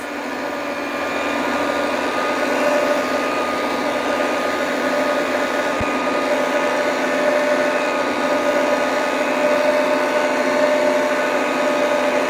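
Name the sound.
Popeil pasta machine running, extruding pasta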